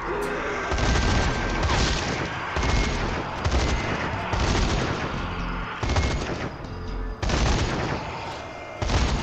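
Heavy gunfire from a favourite weapon in the zombie shooter video game Zombie Army 4: Dead War, loud sustained bursts of automatic fire in several long stretches with brief pauses between them.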